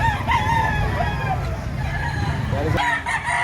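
A rooster crows nearby among clucking fowl at a chicken market in Batangas, with a low engine hum and background chatter running under it.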